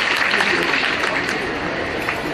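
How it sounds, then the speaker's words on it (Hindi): Audience applause at a platinum jubilee function in Mandi, Himachal Pradesh: dense, steady clapping from a large crowd, loud and continuous throughout with no pauses, filling the hall evenly from start to finish. "एक बार जोरदार तालियां हो जाएं"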